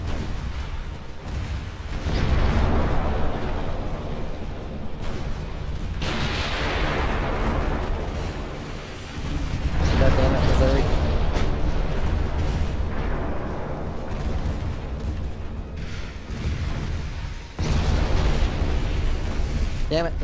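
Naval gunfire from cruisers shelling a battleship in Ultimate Admiral: Dreadnoughts, heavy booming salvos that roll and rumble in repeated waves, loud and sustained, with overlapping blasts and a player talking over them.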